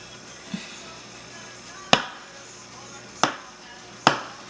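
Donut mixture being cut out of a container, heard as three sharp, distinct knocking chops spaced a second or so apart after a softer tap, close and otherwise quiet.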